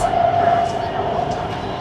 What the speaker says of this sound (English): the train is gonna stop right at the exact place to open the door and people can walk in